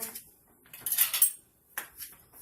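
A spoon scraping food out of a container while cooking zucchini pasta with walnut mock meat, heard as a few short, bright scrapes and clinks separated by quiet pauses.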